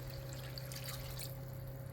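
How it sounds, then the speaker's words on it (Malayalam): Water poured into a hot pan of Kerala-style squid roast (koonthal), a steady splashing pour over a constant low hum, with no voices. "ഇനി ഇതിലേക്ക് നമുക്ക് കുറച്ച് വെള്ളം ചേർത്ത് കൊടുക്കാം"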